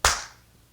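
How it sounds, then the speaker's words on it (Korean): A single sharp hand clap rings out at close range during a morning Buddhist study gathering at Jeungsimsa temple in Gwangju, then fades quickly into quiet room tone. "박수소리"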